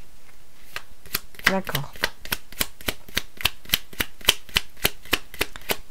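Tarot cards are shuffled in a fast, steady run of crisp riffling snaps that continue for the whole stretch, close to the microphone, with a brief spoken word partway through.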